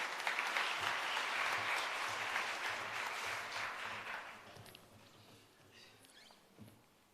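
Applause at a hybrid capacity-building workshop, a dense burst of clapping that starts strong and gradually thins and fades over several seconds to a few scattered claps.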